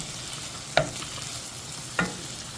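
Partly frozen ground meat fries in a pan for a spaghetti sauce, giving a soft steady sizzle with two sharp scraping stirs, quiet and close, with no talk.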